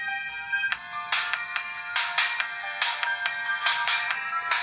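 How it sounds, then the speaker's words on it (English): Music plays through the small built-in mono speaker of a Creative Zen Vision W portable media player at full volume, with a steady rhythmic beat of bright, thin pulses and no talking. "You guys can hear the mono speaker here."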